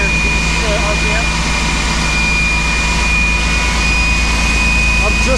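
Engine of a 2007 Saturn Sky base model held at a steady 2,000 RPM on a dyno, a loud continuous drone with a high whine riding on top, with people talking over it.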